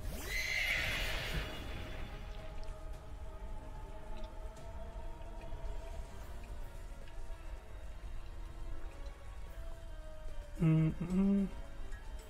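An ice horse Pokémon neighs in a Pokémon video game battle, a whinny at the start followed by a faint sustained tone, then a short burst of louder game sounds near the end, with a voice talking over it.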